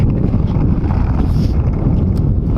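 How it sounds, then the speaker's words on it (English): Strong wind buffets the microphone beside the River Thames at Abingdon, a loud, continuous low roar of gusts with no talking. "It is so windy today."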